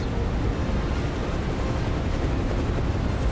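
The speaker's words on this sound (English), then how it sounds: "Suddenly there was a strange whirring sound." A helicopter hovers and descends to land in the snow, its steady whirring rotor and engine drone filling the scene close and loud, continuous and unbroken, with no one speaking.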